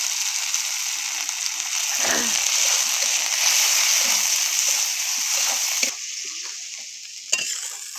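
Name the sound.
frying a spice paste with turmeric in oil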